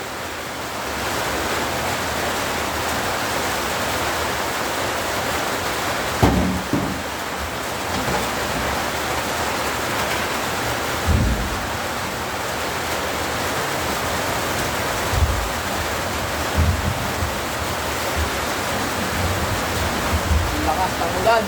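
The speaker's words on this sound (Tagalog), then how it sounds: "Lakas ng ulan." Heavy rain pouring down outdoors, a dense continuous hiss like surf with a few louder thumps and knocks scattered through it.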